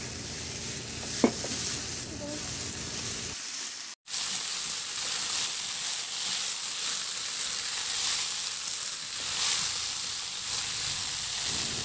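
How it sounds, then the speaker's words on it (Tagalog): Potatoes and saba bananas are sautéed with tomato in a pan, a steady sizzle with stirring scrapes that cuts out briefly before resuming, continuous and close, with no talking. "isabay ko na rin gisa yung patatas at yung saging na saba"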